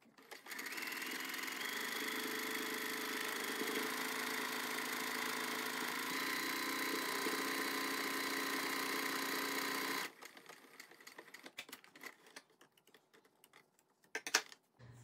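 A sewing machine stitches a buttonhole on a denim jacket pocket flap, running steadily and close for about ten seconds, then stopping, followed by faint handling clicks.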